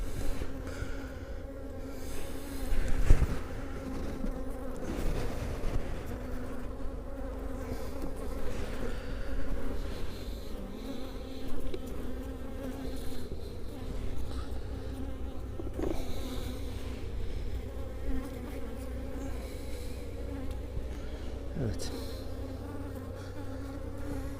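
A steady, dense drone of many honeybees buzzing up close at an open styrofoam hive, continuous throughout with occasional louder passes near the microphone.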